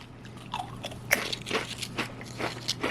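Repeated loud, dry crunches as thick Kettle sea salt and vinegar chips are bitten and chewed right at the mouth, each crunch breaking into crackly bursts in an otherwise quiet room.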